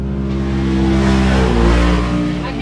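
A UTV race car roars across the start-finish line at the High Desert 100 desert race in Powell, Wyoming, its engine loud and close, rising in a sustained rev for nearly three seconds.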